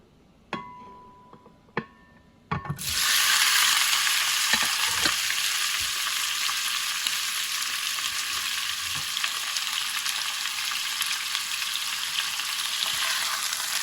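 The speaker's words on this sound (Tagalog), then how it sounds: "Kapag mainit na, ilagay na natin yung yung karne." Pork goes into hot cooking oil: a few sharp clinks, then a sudden loud sizzle that settles into steady, close frying for the rest of the clip.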